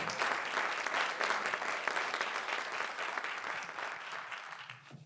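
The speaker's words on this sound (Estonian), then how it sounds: "Aplaus!" Audience applause honoring a county's teacher of the year at a regional awards ceremony, steady dense clapping filling the room for about five seconds before tapering off at the end.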